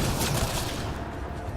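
Rapid gunfire from the video game Mass Effect Andromeda, a brief, dense burst of close shots with booming low thumps, fading slightly at the end.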